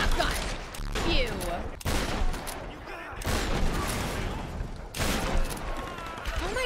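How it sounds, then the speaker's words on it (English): Shotgun fire in the Tomb Raider game sounds as several loud, heavy booms with sharp onsets, separated by dense chaotic battle noise, with a voice talking over it. "Shotgun!"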